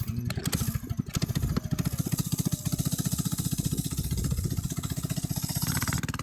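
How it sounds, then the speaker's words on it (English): An old Kawasaki three-wheeler trike fires up and settles into a steady, loud, rapidly pulsing single-cylinder chug that runs without a break. "it starts right up because of the engine reliability"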